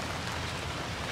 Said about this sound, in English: So it's raining today, of course.